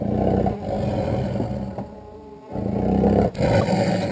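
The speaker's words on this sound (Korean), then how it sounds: "회복된 호랑이는 울음소리가 우렁찬 것으로 보아 건강해 보입니다." A rescued, recovered Korean tiger roars loudly and close by, giving long, deep, rumbling roars broken by brief pauses for breath.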